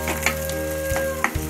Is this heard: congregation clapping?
no